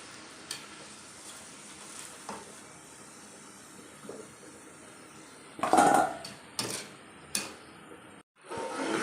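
Gune, fried dough snacks made for Gangaur, browning in hot oil give off a soft, low hiss, broken later by a few loud, sharp clatters of utensils against the pan.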